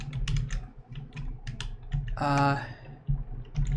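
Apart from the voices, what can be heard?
computer keyboard typing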